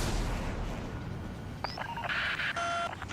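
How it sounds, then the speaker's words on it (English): A missile launch in the video game Ace Combat 7, a loud, sustained roar of rushing noise, joined partway through by short electronic tones and beeps. "Missile away."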